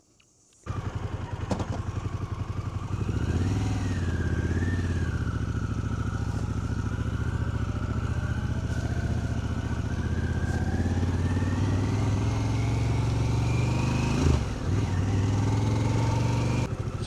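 Harley-Davidson Pan America motorcycle cruising along New Zealand's Forgotten World Highway, a steady loud engine drone with rushing wind, the pitch shifting slightly as it rides, continuous throughout with no talk.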